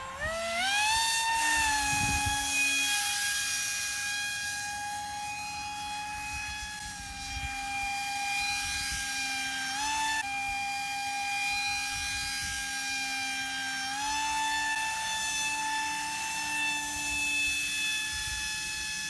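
A homemade ducted-fan mini jet in flight gives a steady, loud whine whose tones slide up and down as the throttle changes, holding for about nineteen seconds with no talk.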